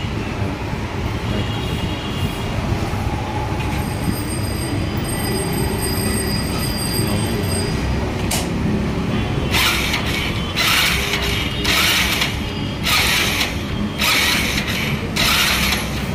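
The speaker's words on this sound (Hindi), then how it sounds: "पहले जो है मैग्नेट नहीं घूम रहा था, अब जो है मैग्नेट घूम रहा है" A Hero Passion Pro self-starter motor spins the magneto after a one-way clutch repair, giving a steady close mechanical whir and grinding, joined later by a series of loud, rhythmic ratcheting bursts.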